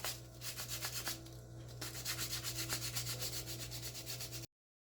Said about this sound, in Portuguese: Eu vou lixar pra pintar.